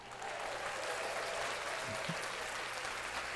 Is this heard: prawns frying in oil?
no